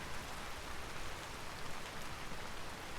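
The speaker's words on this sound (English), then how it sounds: "It just suddenly started raining really heavily." Heavy rain falls steadily outdoors on a foggy homestead, a close, even roar of dense raindrops with no talk.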